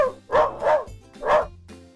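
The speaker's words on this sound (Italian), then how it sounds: "Oh, un cane." A dog barks three times in close succession, loud and near, with brief pauses between the barks.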